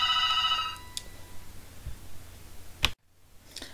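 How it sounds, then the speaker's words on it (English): A telephone rings with a bright electronic trill at the start, followed by scattered clicks and a clunk as the handset is picked up, then near silence. "I had to take a phone call"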